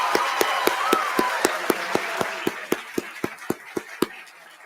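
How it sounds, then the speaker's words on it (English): Steady rhythmic clapping at an awards ceremony, sharp claps landing about four times a second and gradually softening over a few seconds. "let's give a huge round of applause to everybody"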